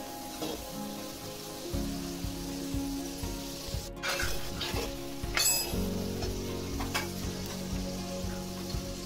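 Spices tempering in hot oil for Maharashtrian poha chiwda, a continuous close sizzle and crackle with a low hum and a couple of sharp clinks from utensils.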